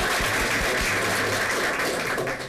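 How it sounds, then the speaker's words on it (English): Audience applause at a county school board meeting, a dense, even wash of many hands clapping throughout, with faint low voices beneath. "Could you give him a round of applause?"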